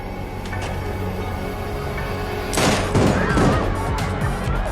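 A short burst of rapid gunshots from a TV show plays through a speaker under a steady background hum. It is mid-distance and lasts about a second.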